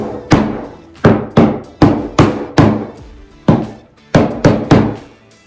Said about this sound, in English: let me grab the hammer and tap that in